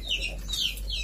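Dumpo Gold chicken sick with fowl cholera gives a couple of quick, close clucks in a brief burst against a low background hum.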